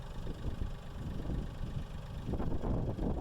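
Strong wind buffeting the microphone outdoors, a loud low roaring rumble that swells in gusts and grows heavier toward the end, with no talking.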